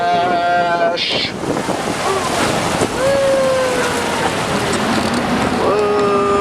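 Amphibious tour boat cruising on the Charles River in Boston just after splashing in, with steady broadband rush of water and wind across the microphone, a tonal horn-like whistle sweeping through, and a voice speaking faintly under the noise.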